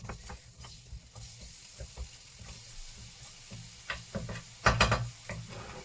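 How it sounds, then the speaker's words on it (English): Onions hit hot oil in a pan and crackle with a moderate, close sizzle, broken by light spatula scrapes and a louder clattering stir burst near the end. "now that our oil is done, I'm going to go ahead and add in the onions first"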